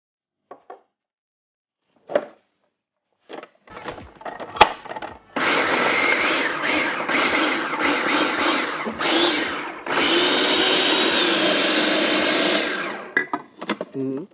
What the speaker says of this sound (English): anytime you're blending food processor or what have you, take off the cover, you scrape down the sides